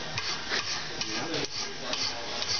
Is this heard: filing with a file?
yes